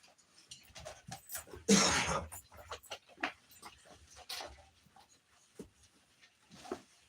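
Puppies pant in quick, uneven breaths and whimper softly up close, with a brief loud rustling burst near the start and scattered small snuffles and movements afterward.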